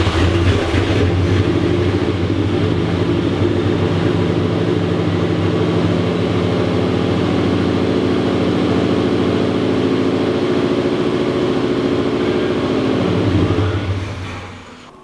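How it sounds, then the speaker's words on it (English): A 1986 Oldsmobile Cutlass engine, just revived from a junk state, runs loud and steady at idle with a deep continuous rumble close by, then cuts off abruptly near the end. "After we finally got the Cutlass running"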